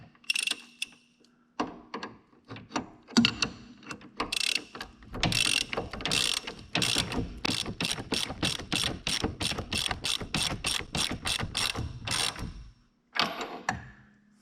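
A ratchet wrench tightens a nut on a ZL1 1LE toe arm, with a few scattered clicks followed by a long run of rapid, regular ratcheting close up, then a final short burst.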